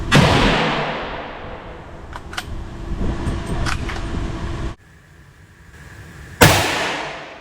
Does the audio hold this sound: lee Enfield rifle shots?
yes